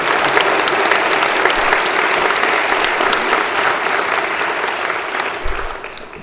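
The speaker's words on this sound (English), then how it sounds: "Everyone give a round of applause to Emily." Dense, sustained applause from a large audience at a high school senior awards ceremony, steady and loud throughout before easing slightly near the end, with no talking over it.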